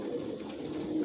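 Adult Johnson-line racing pigeons coo softly inside a loft, a faint, low, continuous murmur of calls.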